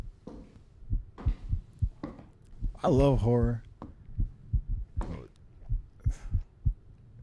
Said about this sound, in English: Why is your heart beating, bro?